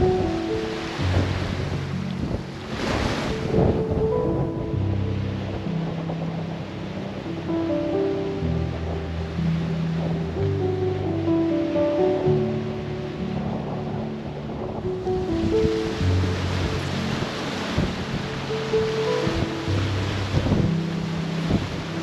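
Sea waves wash along a beach in a steady broad rush, heavy with wind buffeting the microphone, no voices.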